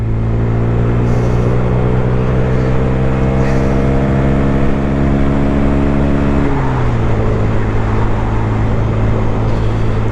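A 2022+ Honda Grom motorcycle engine drones loud and steady at high revs during a top speed run, holding a constant pitch before dropping slightly partway through, over continuous wind rush.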